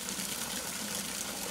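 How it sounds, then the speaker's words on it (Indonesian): Hot spring water pours from a simple spout at Nalahia on Nusalaut, a steady, close hiss of falling water that continues without a break. "hanya berupa pancuran gitu, karena emang debit air tawarnya sedikit, makanya dibuat seperti ini"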